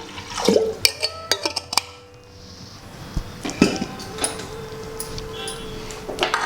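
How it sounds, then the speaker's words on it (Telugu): About 250 ml of water is poured into a clay pot being readied for steaming chicken, with a splashing pour mixed among scattered clinks and knocks of kitchenware, fairly close by. "ఈ మట్టి పాత్రలో నీళ్ళు సరిపడా ఒక 250 ml వాటర్ పోస్తున్నాం"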